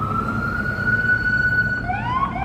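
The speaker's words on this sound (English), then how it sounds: "We got some sirens. Here comes some police here" Police car siren wailing in downtown Chicago's Loop on LaSalle Street, loud and close with a steady high tone that then sweeps up and down over constant city traffic rumble.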